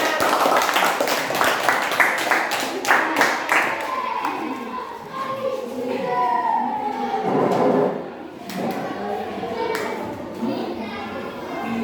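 A classroom group claps together in a quick rhythmic burst of loud, close claps for about four seconds, then children's voices and chatter take over.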